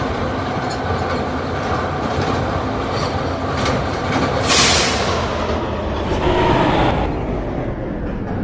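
An R160B subway car on the New York D train rolls along with a steady, loud rumble and rhythmic wheel clatter, with brief brighter squeals and no voices.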